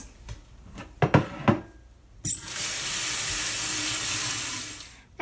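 A few light clinks and rattles, then running water pours steadily for several seconds over rice being washed, close by, before stopping abruptly.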